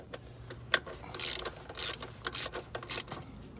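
A ratchet snugs down the starter bolts on a Honda Accord with quick bursts of close, crisp clicking and a few isolated ticks in between, fairly quiet overall.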